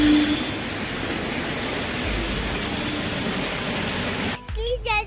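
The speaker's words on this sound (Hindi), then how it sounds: "पानी ना जोर से ही स्टार्ट हो चुका है" Heavy monsoon rain pouring down in India, a loud dense hiss filling nearly the whole span before cutting off abruptly, followed by a brief spoken voice.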